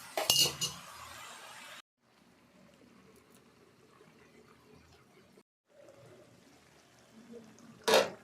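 Cabbage and fish head curry is stirred in a cooking pot, with a bright burst of utensil clinks and scraping at the start, quieter shuffling through the middle, and another sharp clatter at the end.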